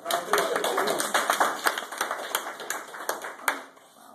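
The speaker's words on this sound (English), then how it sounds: "Everybody, a round of applause." Audience round of applause after a taste test, a thin scattering of individual claps, fairly close and uneven, fading out toward the end.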